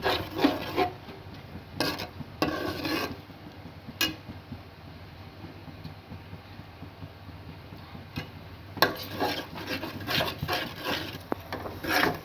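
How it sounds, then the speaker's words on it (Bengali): Egg and fried onions are stirred in a pan with a spatula, giving intermittent scraping and rubbing strokes in short bursts, fairly close and moderately quiet, with a low steady hum beneath and no talking. "দিয়ে দেবো আমরা ভুলে রাখা ডিমটা। ভালো করে নাড়িয়ে চাড়িয়ে নেব।"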